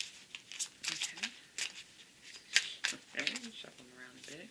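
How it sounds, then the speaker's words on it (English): Tarot cards being shuffled, giving close papery shuffles and snaps in irregular bursts while a person talks over them. "Alright, shuffle them around a bit."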